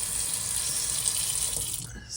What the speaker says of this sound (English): I'll change out this water.